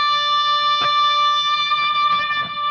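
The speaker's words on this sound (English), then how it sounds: "So what you heard was a volume pedal and delays." An electric guitar swells in through a volume pedal with no pick attack, sustained tones ringing on and echoing through long repeating delays, clear and steady with no voices.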